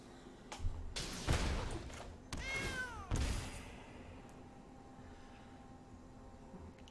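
A cat meows in the digital card game Magic: The Gathering Arena, a short, clear sound effect that rises and falls once against quiet background noise, with a couple of soft thumps nearby.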